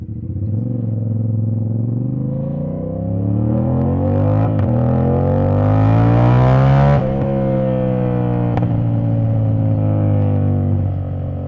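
A CFMOTO 450SS sport motorcycle with a flashed ECU holds a steady engine note, then its pitch climbs smoothly under throttle, peaks sharply and eases back to a strong, even drone, close and loud with no voices.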